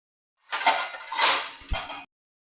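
Plates are picked up and handled, giving a short run of close clattering and clinking with a light knock near the end, and no voices.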